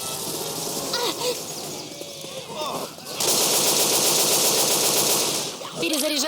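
Rapid automatic gunfire in the zombie shooter Left 4 Dead 2, a sustained loud burst of rattling shots after scattered earlier firing, with characters talking in between.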